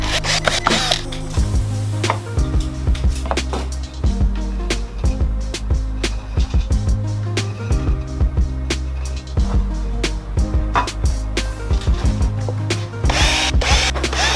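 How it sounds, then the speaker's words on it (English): A power drill bores mounting holes for a Ground Zero Uranium car amplifier, loud close whirring bursts with rhythmic ratcheting pulses repeating steadily throughout. "That way I can drill my holes through in the exact spot."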